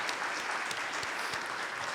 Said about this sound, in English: let's give all the candidates a round of applause.